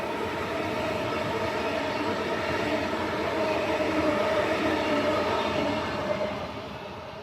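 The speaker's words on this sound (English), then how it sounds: "The next train we'll be seeing just now." Train rumbling past on rail tracks in Australia or Singapore, a steady continuous roar at fairly close range that holds loud for several seconds before easing off near the end.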